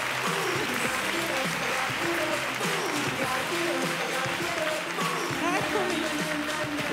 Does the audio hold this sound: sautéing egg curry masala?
no